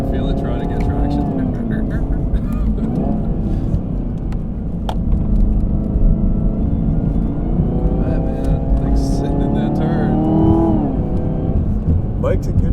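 A ZL1 Camaro, Shelby GT350R and C5 Corvette drive hard on a canyon road, heard as a steady in-car engine drone with rising and falling revs as the gears change, under ongoing conversation.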